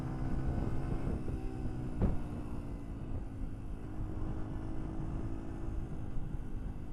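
A car engine drops from fifth gear straight down to second in a triple downshift, a steady low rumble with a brief sharp blip partway through, fairly distant and muffled with no talking.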